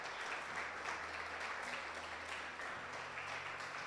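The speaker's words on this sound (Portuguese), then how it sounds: "Dê um aplauso ao Senhor" Sustained applause from a large church congregation, a dense wash of clapping that continues evenly throughout, moderately distant with a faint hum underneath.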